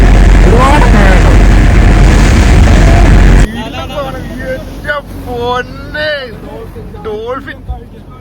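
A deep-sea fishing boat's engine roars loudly with heavy wind buffeting for about three seconds, then drops to a quieter hum as someone talks over the background.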